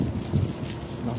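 A strong wind blows hard across the microphone outdoors in hot Orlando weather, making a continuous low, rumbling buffeting for the whole moment.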